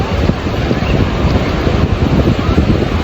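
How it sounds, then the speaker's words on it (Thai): Cool night wind at Bang Saen beach, blowing hard and steadily straight into the microphone as a loud, constant rushing buffet. "ลมเย็นดีเลยครับ"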